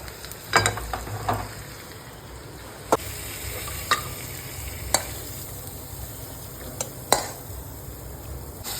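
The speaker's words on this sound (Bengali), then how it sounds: "তো এখন আস্তে আস্তে মাংসটা কষতে থাকবে" Mutton sizzles steadily in a hot pan, with a spatula scraping and clinking against the metal at irregular intervals as it is stirred.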